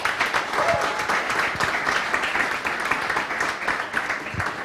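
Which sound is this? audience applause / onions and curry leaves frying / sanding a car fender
audience applause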